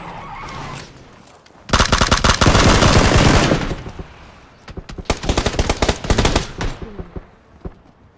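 Automatic gunfire in the shooter game PUBG, loud close bursts of rapid shots, a long sustained volley followed by several shorter choppy bursts, with little else around them.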